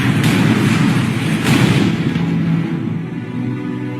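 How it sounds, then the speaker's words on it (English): A gunpowder store aboard a Chinese war junk blows up, a loud, sustained rumbling roar that swells and then slowly fades away with no voices. "a British rocket hit the powder store of the flagship Chinese junk, which blew up in a tremendous explosion."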